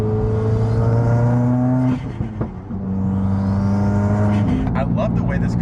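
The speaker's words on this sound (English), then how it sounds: "I love the way this car sounds because no other car sounds like the WRX." A Subaru WRX engine idles and revs with a deep, steady drone, dips briefly as the throttle changes, then climbs again in a rising rev, heard up close with some talking over it.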